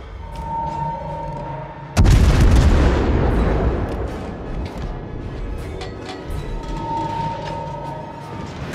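Naval artillery in World of Warships fires one sudden, loud, heavy boom that rumbles and decays over several seconds. Lighter crackles and distant pops come before and after it.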